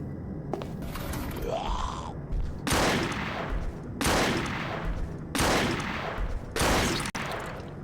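Gunfire in the lo-fi horror shooter Blighten: four loud, separate shots, each a broadband blast with a decaying tail, spaced roughly one to one and a half seconds apart, following a brief rising whine.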